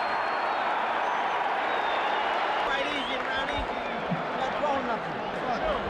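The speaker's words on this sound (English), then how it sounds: "The crowd is really juiced up." A boxing arena crowd at a heavyweight bout between Mike Tyson and Larry Holmes roars in a dense, continuous wash of cheering and shouting, loud and steady throughout, with commentary voices buried in the din.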